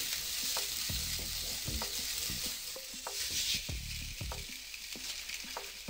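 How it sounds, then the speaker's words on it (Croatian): A meat patty (pljeskavica) fries in a greased pan, giving a soft, continuous sizzle punctuated by repeated clinks and scrapes of a utensil against the pan, with no voices. "namazati masnoćom i pržiti po 5-6 minuta sa svake strane"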